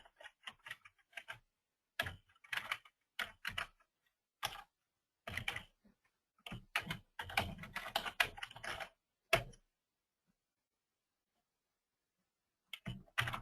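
Someone types contact details on a computer keyboard, with quiet bursts of key clicks separated by short pauses and a longer silence near the end.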